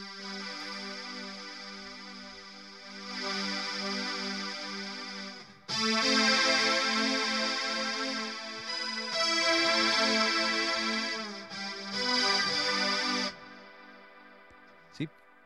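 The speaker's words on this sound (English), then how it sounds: "But man, the space echo warms it up." Music passed through a Space Echo tape delay unit, bright sustained tones with repeating echoes in several loud sections separated by brief drops, ending with a short sharp click.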